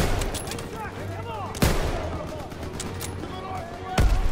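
Bursts of machine gun fire crackle in a Call of Duty WWII battle, mixed with sharp single shots and a booming report, under shouting voices and constant combat noise.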